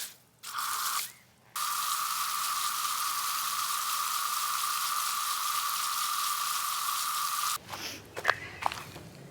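Steady hiss of water spraying from a garden hose onto newly planted rose bushes, running continuously for several seconds after a brief start-stop, followed by a few light rustles and taps.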